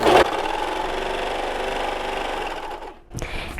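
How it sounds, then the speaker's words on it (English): A serger sewing machine runs continuously at high speed while face mask fabric is fed through it, making a loud, even mechanical whir close by. It stops briefly near the end, then a clunk and handling noise follow. "I take it through the serger"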